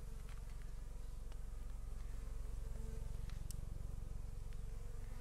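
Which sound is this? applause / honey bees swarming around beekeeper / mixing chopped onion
honey bees swarming around beekeeper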